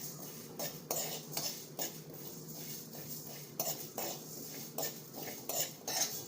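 Metal spatula scraping and clattering against a pan while masala chilies are sautéed over low heat, a steady run of repeated scrapes and taps, close and moderately loud with no voices.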